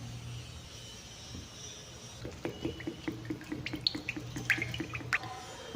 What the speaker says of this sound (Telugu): దీంట్లో కావాల్సినంత ఆయిల్ అయితే వేసుకుంటున్నాను చూడండి.